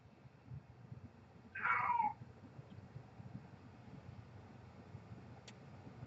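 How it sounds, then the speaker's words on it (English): A pet cat gives a single short meow in the background of a quiet room, brief and fairly faint against a low steady hum. "You might be able to hear my cat in the background."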